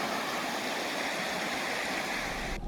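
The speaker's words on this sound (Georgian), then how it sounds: "მდინარე თენძამი." The Tedzami river flowing near the Drisi fortress in Shida Kartli, a steady broadband rushing of stream water heard close and continuous until it cuts off abruptly at the end.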